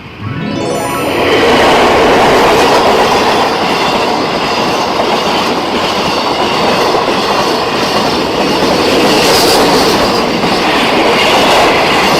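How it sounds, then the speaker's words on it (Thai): A long freight train rumbles past close by near Bang Phra Reservoir in Chonburi, Thailand, steady loud wheel clatter and rolling noise with a brief high squeal at the start, no voices. "รถไฟขนสินค้า"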